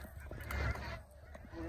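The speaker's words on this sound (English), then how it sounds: "Got some ducks coming over here to check us out" Ducks call nearby during outdoor rainbow trout fishing, giving a few short, honking squawks over a faint outdoor background.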